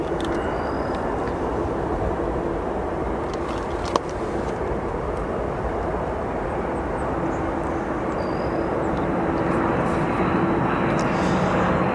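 An Aer Lingus Airbus A330 arrives at O'Hare from Dublin, a continuous moderate jet rumble under a constant background wash, swelling slightly toward the end, with a brief click partway through.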